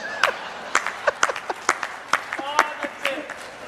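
Scattered clapping from an audience at a poetry performance in Pune, a thin, uneven patter of claps rather than full applause, with talk over it.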